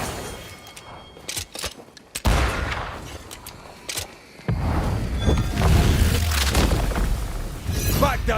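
Gunfire and booming impacts during combat in the video game Banishers: Ghosts of New Eden, with sharp shots and heavy blasts piling up under a dense, loud mix of game noise and voices.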